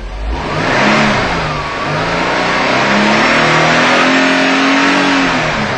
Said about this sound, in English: we may be able to do it if we get the RPMs high enough